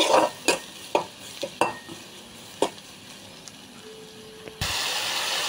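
Pumpkin is stirred in a frying pan with a few sharp spatula scrapes and knocks against the metal, followed by a sudden steady sizzle as the pieces hit the hot oil.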